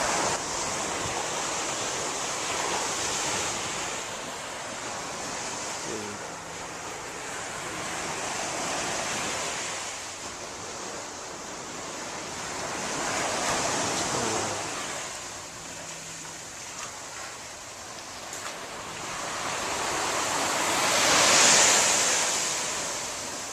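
Ocean waves break on the shore in continuous rolling surges, loud and close, with wind buffeting the microphone and a sharper hiss of surf near the end, no voices.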